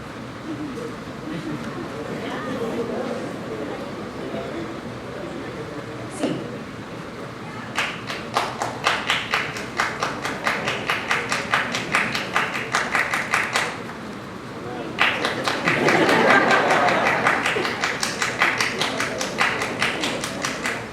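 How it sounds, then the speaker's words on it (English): A man claps his hands alone in a conference hall, a long run of sharp, evenly spaced claps that quickens and grows louder toward the end, with quiet room noise between. "All right, Umberto, you may begin clapping"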